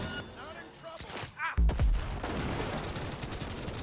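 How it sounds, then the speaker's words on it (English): In Cyberpunk 2077, a muffled boom of an explosion goes off in the distance, followed by a rumbling tail amid scattered gunfire, with voices talking around it. "I like that sound effect of it going off in the distance. That sounds so cool. The explosion."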